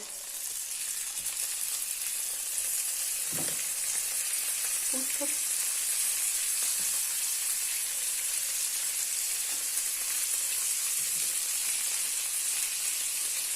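Pheasant steadily sizzling as it fries in a pan, a continuous hiss with occasional soft stirring clinks, close and moderately loud.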